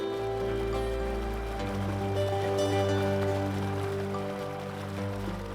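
Steady rushing water with a constant broadband wash and gurgling texture, a mountain stream cascading over rocks, continuous and fairly close throughout.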